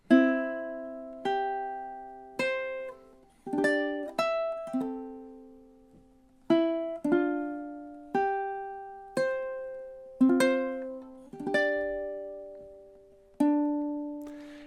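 Ukulele playing measures 11 through 14 of a song: a slow sequence of about a dozen plucked and strummed chords, each ringing and fading before the next, close and clear with no voices.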